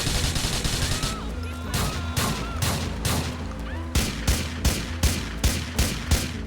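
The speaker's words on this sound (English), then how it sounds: "this mod does it perfectly by adding much more authentic sounds to all guns, including reloading, distant shots, and explosions" Dense gunfire from GTA 4 with a tactical weapon sounds mod, rapid loud bursts and individual sharp shots overlapping continuously, with some booming reports in a busy combat mix.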